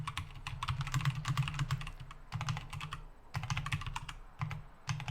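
Rapid typing on a computer keyboard, with bursts of dense key clicks broken by short pauses, steady and close over a low background hum.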